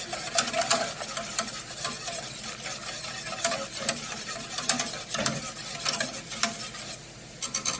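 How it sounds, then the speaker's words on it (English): A whisk clicks rapidly and irregularly against a pan as a roux is whisked together over high heat, the close scraping taps riding over a quiet, steady sizzle. "So just whisk that together, and then we're going to let that cook."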